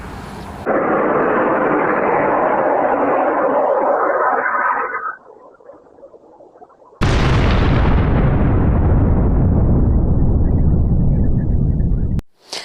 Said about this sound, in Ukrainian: На відео чутно звук російської ракети, що пролітає над Дніпром, а потім спалах та вибух